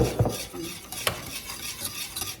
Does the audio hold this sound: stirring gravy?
yes